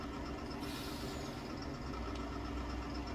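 A tractor engine drives steadily in Farming Simulator, a constant low mechanical drone with a faint hiss, even and unbroken, with no talk.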